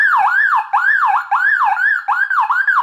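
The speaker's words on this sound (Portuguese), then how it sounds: "Pelo menos a buzina tá funcionando." Small motorcycle horn, on a bike sitting on a newly bought trailer, sounds as a loud warbling electronic tone that sweeps up and down in four quick repeated cycles, close and with no talk over it.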